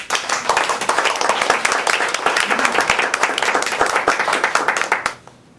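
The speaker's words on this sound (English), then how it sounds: "May I have a round of applause, please?" An audience at a talk on humor and positive psychology bursts into a round of applause, brisk crowded clapping that stays loud for about five seconds and then stops abruptly, leaving near silence.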